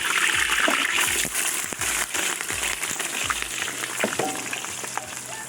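Spice ingredients, onion among them, sizzle and crackle loudly in hot oil for a lamb stew, a steady dense frying hiss with occasional spits and low clunks throughout, no voices.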